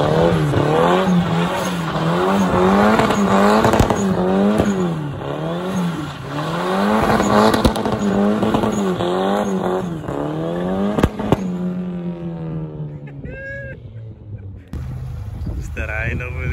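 Turbocharged Nissan 1400 bakkie with a stock engine driving, its engine revving up and down in repeated strong pulls with a loud, close drone before easing off near the end.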